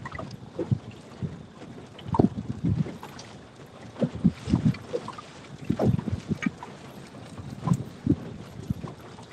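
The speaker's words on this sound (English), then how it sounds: "so much for the wind dying down" Wind buffets a fishing boat out on the water during a night of catfishing, a gusty rumble that rises and falls in uneven bursts, with no talking.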